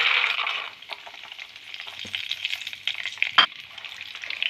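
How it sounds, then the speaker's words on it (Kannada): Peanuts frying in hot oil with mustard seeds, cumin and asafoetida in a pan, a steady close sizzle with small crackles and pops and a brief clink of stirring. "ಕಡಲೆ ಬೀಜ ಕೆಂಪಾಗೋವರೆಗೂ ಫ್ರೈ ಮಾಡ್ಕೊಳ್ಳೋಣ"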